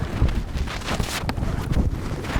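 Strong wind on a mountain trek to Agasthyarkoodam buffets the microphone in rough, uneven gusts, a close rumbling roar that swells and dips throughout.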